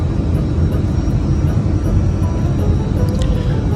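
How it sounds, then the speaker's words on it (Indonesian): Steady, loud, broadband roar of an Uzbekistan Airways jet cabin on approach to Bukhara airport after a flight from Tashkent, heard up close and continuous with no talk, plus a faint brief chime near the end. "Dan tak terasa pesawat pun sudah hampir tiba di Bandara Internasional Bukhara"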